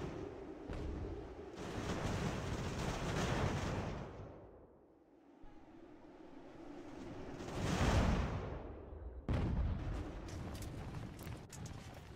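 Cannon artillery fire in Ultimate General: American Revolution sounds as deep rumbling booms and swelling blasts, with several broad surges and a sharper burst near the end over a battlefield din.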